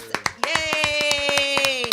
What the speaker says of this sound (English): Clap it up one more time for Taylor Chin.